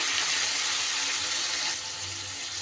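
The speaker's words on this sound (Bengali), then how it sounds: "এইবার আমি প্রথমে মশলার বাটিটা ধোয়া জল একটু দিয়ে দিচ্ছি।" Water from rinsing a spice bowl is poured into a pot of fish curry with winter vegetables, giving a short, close, continuous splashing pour that eases slightly toward the end.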